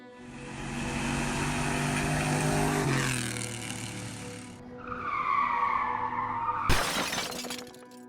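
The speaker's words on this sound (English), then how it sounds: "he is going to have to plow through the boxes and through the buggy" Car crash sound effect for a Gaslands tabletop battle report: a revving engine roars, then tires squeal and skid in a rising whine before a sudden loud shattering impact, with debris settling afterward.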